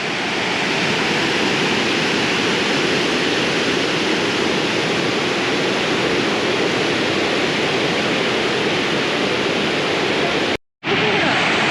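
River current surging through whirlpools and eddies, a steady, loud broadband roar of rushing water that holds constant, broken only by a brief dropout near the end.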